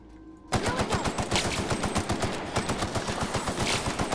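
Rapid automatic gunfire from a weapon in The Outer Worlds, a sustained loud burst of closely spaced shots running continuously after a brief quiet start.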